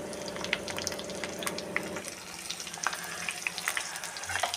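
Green chillies being stirred in a hot frying pan, a steady sizzle with scraping and clinks of the spoon close by, a low hum fading midway while the frying continues.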